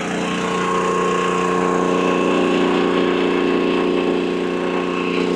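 A Harbor Freight Predator 11,500W tri-fuel inverter generator runs on propane while charging an electric truck, giving a loud, steady, close engine drone with an even tonal hum and no break.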